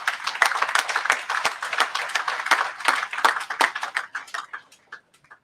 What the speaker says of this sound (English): So we can get a round of applause for all the bowlers here today.